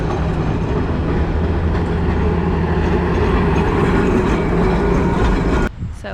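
An old tram rolls past on a Milan street, close and loud, with a heavy low rumble and steady rattling of wheels on rails that ends abruptly.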